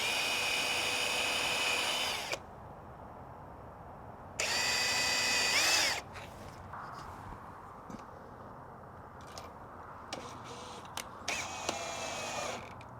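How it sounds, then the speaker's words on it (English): A power drill bores a countersink hole for screws into wood during a camper van build of an e-toilet mount, with two loud bursts of high whining drill run followed by quieter handling clatter and a brief final spin. "I'm going to put a little countersink hole."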